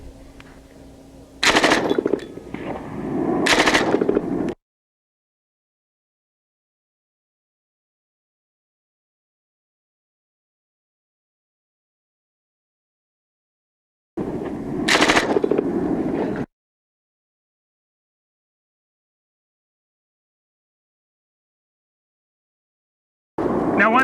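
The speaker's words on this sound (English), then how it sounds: "Pulling just the top portion of the trigger fires a single shot, and pulling the second little trigger down there on the bottom fires in full automatic." An MG34 machine gun fires in a video game, loud short bursts of rapid automatic fire separated by long stretches of silence.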